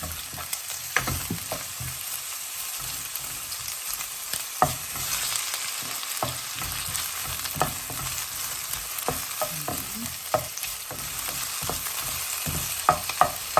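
Chopped onions fry in a hot pan for sautéed green beans, a steady crackling sizzle broken by frequent scraping and clinking stirs, close and fairly loud with no talking.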